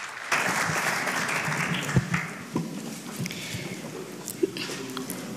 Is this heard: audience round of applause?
yes